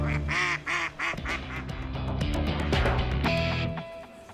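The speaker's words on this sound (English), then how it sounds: "leave these ducks to waddle their own way home" Ducks quack repeatedly near a roadside call-out scene, their calls mixed with steady background noise and a tonal hum, with no speech.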